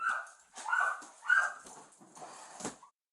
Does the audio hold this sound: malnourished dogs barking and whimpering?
yes